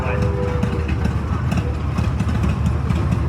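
A 25 horsepower tractor running at a tractor parade, a steady low engine rumble throughout with background crowd noise, while a voice speaks over a loudspeaker.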